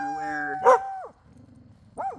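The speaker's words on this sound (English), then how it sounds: "I don't know what they're barking at." A dog lets out a drawn, howling bark, then after a quiet gap another dog gives a shorter yelp. Both sound moderately distant and are heard on their own without talk.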